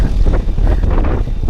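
Wind blowing steadily across the microphone of a cyclist riding at dusk as rain approaches, a continuous loud low rumble with gusty buffeting throughout.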